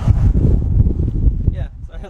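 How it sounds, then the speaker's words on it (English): Loud gusts of wind buffet the microphone outdoors beside a 2022 Honda Navi in a rough low rumble, easing off toward the end as a voice speaks over it. "it is windy out here"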